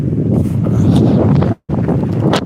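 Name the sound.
strong wind gusting outdoors after a storm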